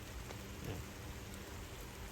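Raindrops falling inside an orchid greenhouse, a soft steady patter of rain on surfaces, faint and even throughout, with no one speaking.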